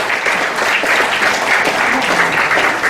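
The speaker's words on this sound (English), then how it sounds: "Maybe a round of applause for all the staff and faculty of CMI" Applause for college staff and faculty at an alumni party, a dense, loud, steady roar of many hands clapping close by throughout the short stretch.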